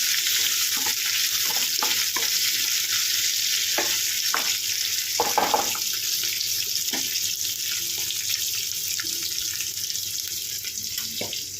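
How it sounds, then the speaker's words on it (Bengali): Chopped onions fry with a steady, close sizzle in a pan over low heat while a utensil scrapes and stirs them at intervals, with no talk over the cooking. "কেটে রাখা পেঁয়াজ। এটাকে ভালো করে নেড়ে নেব"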